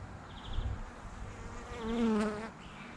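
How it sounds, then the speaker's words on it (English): Bees buzzing close by while potatoes are planted and seeds sown in early spring, a soft wavering drone that swells louder as one flies past, then fades, with no talking. "Little bees."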